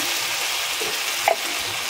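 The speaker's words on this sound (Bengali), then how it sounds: "রসুন দিয়ে ভালো করে ভাজা ভাজা করে নিয়েছি। এবারে মশলা দেব," Garlic and turmeric sizzle steadily in a hot pan for a Bengali fish curry, a close, continuous frying hiss with a quick stirring clink near the end and no talk.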